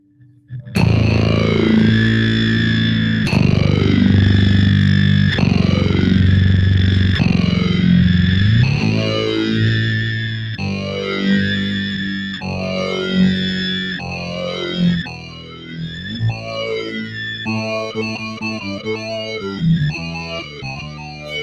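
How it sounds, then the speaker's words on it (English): A bass guitar played through a digital synth wah pedal gives loud, sustained notes with sweeping, swelling filter sweeps that repeat every couple of seconds, turning more choppy and stuttering toward the end; no talking. "So this synth wah has like 7 sounds, so I use 2 of them."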